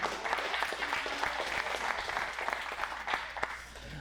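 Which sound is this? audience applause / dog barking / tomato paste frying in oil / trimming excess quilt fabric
audience applause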